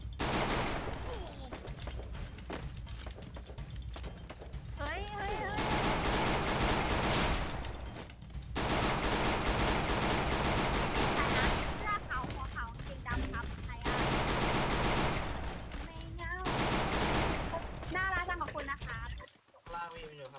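Gunfire from a Free Fire ranked 4v4 match rattles in long dense bursts separated by short pauses, with several players talking excitedly throughout.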